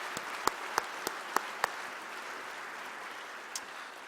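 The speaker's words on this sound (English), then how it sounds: "Let's give them a big round of applause." Applause from a lecture audience, a soft bed of crowd clapping punctuated by several sharp, close individual claps early on that then settles and fades.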